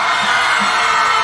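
Concert audience on the right side of the venue yells and cheers together, a loud continuous crowd roar filling the whole moment.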